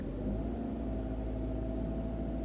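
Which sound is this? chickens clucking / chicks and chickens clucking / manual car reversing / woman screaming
manual car reversing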